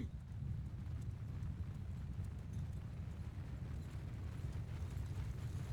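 Horse hooves galloping in the Mount and Blade II Bannerlord game during a siege battle, a dense, continuous drumming of many hoofbeats with a low rumble, steady and moderately loud throughout, without speech.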